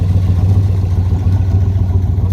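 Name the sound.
1966 Corvette L72 427 engine running with side exhaust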